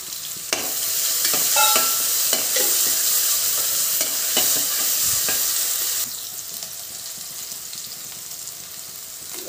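Finely chopped onion hits hot oil for aloo palak, a loud close sizzle with scraping stir strokes, then settling into a quieter, steady fry.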